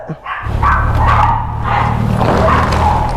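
Several big dogs bark loudly and continuously close by at a residential gate during a delivery drop-off, with overlapping barks filling the whole stretch.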